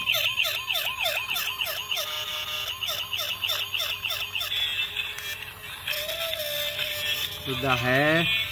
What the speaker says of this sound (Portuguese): Fora a sirene.